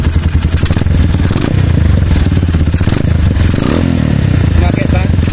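A KRY 200cc motorcycle engine fitted with a DIY power-jet carburettor revs hard at high RPM, a loud, steady, close-up mechanical roar that fills the whole stretch, with someone talking over it.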